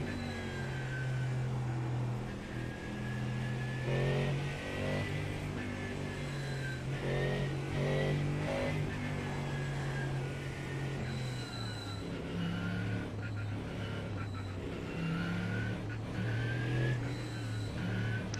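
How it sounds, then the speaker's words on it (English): BMW pace car driving in a NASCAR racing game, a steady engine drone with shifting pitch as it rolls along, continuous and fairly loud with no breaks. "we're rolling up there in that pace car. That's a new BMW pace car."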